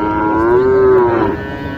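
A cross-breed cow at a busy Naogaon cattle market lets out one long, loud, close moo that rises and then fades, with faint crowd noise beneath.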